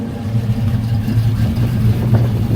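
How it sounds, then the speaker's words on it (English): Normal exhaust of a 1964 Chevrolet C10 pickup truck idles quietly with a low, steady, even burble close by, and no talk over it. "there's the normal exhaust"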